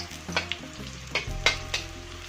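Red chili hits a hot pan and fries, close sizzling broken by several sharp stirring scrapes and clatters, with the frying noise swelling after the chili goes in and no talk over it.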